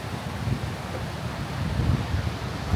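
Strong wind on a Konkan beach buffets the camera microphone in a steady, loud low rumble with no pauses and no voices.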